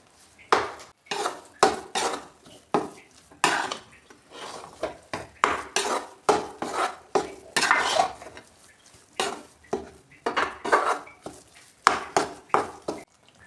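A spoon scrapes and clinks rhythmically against a pan while gram flour (besan) roasts for panjiri. The stirring strokes are close and steady throughout, with no talk.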